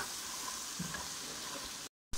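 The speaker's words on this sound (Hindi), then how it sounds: "लेकिन पहले अच्छी तरीके से हम लोग मटन को फ्राई कर लेते हैं मसाले के साथ।" Mutton fries with spices in a pan for Kabuli pulao, giving a soft, steady sizzle heard close, with a faint stirring bump partway through and a brief cut to silence near the end.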